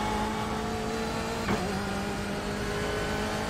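Simulated BMW M8 race car in iRacing at Circuit Zolder, a steady droning engine tone holding at high revs with a brief shift blip midway, loud and continuous with no speech.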